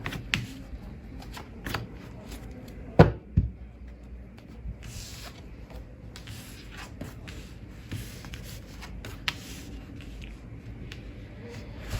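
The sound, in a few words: shuffling and drawing tarot cards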